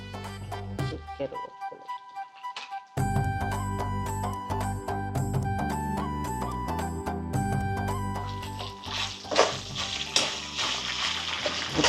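Curry leaves sautéing in hot oil for coconut rice, a steady close sizzle and crackle running under background music throughout.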